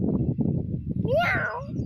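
A child imitates a cat's meow with a single rising, drawn-out mewing cry that follows a stretch of nearby talking and murmured voices.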